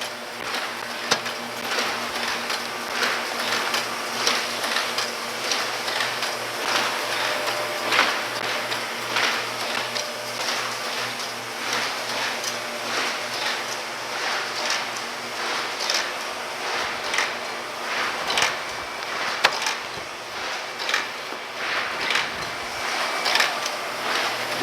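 An MS 500 mailing system machine runs continuously at speed, a steady dense mechanical whirr with rapid repeating clatter and paper-handling clicks throughout, loud and close with no talking.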